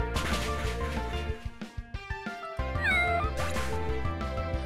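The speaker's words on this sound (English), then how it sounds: "I just realized there's a lot of cats." Cat Pokémon meow in the video game Pokemon Uranium: several distinct, high electronic meows ring out over the game's looping chiptune music, with clicky percussive blips between them.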